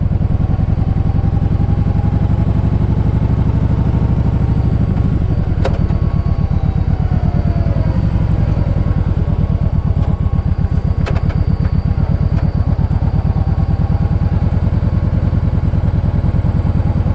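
A 2010 Kawasaki Vulcan Voyager with ABS rumbles steadily as it is ridden, its low engine drone loud and close throughout with occasional clatter and brief wind or road noises on top.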